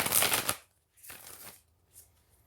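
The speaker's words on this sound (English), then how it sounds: "just going to continue shuffling and see what I draw now" Tarot cards being shuffled in three riffling bursts: a loud crisp one, a softer second pass, then a brief faint flutter, with no voices.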